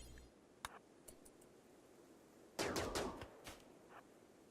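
Several scattered gunshot cracks in RimWorld, faint at first, then a louder burst of rapid shots in the middle followed by a few more isolated pops against a quiet background.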